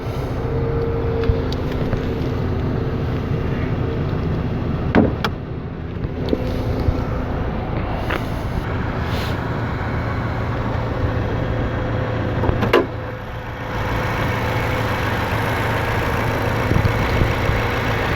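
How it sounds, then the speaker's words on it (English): A Lexus RC 200t's 2-liter turbocharged four-cylinder engine idles steadily with a low, even hum, a couple of brief clicks and knocks over the continuous running sound. "4-cylinder, 2-liter turbocharged engine. And when it's sitting here running,"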